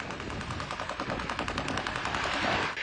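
Air defense guns in Moscow fire at a passing drone: dense, continuous bursts of rapid automatic gunfire, loud and sustained for the whole stretch.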